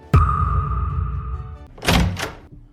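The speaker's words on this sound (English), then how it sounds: "Why'd you lock the door?" A door closes with a solid thunk followed by a lingering ringing tone, then two quick sharp mechanical bursts as it is locked, close and clear with no speech.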